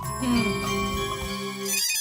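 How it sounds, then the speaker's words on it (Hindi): A phone rings in a domestic TV-comedy scene, a sustained electronic ringtone melody with layered tones that fades out near the end. "फोन आया।"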